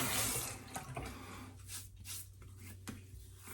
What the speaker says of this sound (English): And I wet the face.